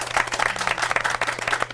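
Audience applause fills a book forum event in honour of a stenographer, a dense, steady round of many hands clapping close by.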